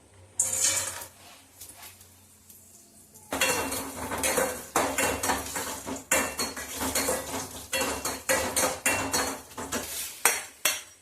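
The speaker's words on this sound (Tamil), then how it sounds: "நெய்யில் வறுத்து எடுத்து வச்சுக்கலாம்." Metal utensil repeatedly scraping and clinking against a pan in a quick stirring rhythm as chopped cashews fry in ghee, with a faint sizzle underneath.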